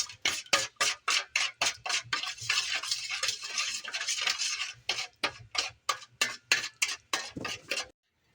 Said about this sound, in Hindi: अब हम अच्छी तरह से पहले मिक्स कर लेंगे ताकि आटा मिलाने में हमें मुश्किल ना हो